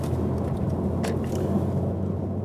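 Steady low rumble of road and engine noise inside a Mercedes C-Class Coupé while driving, continuous and even with no talking.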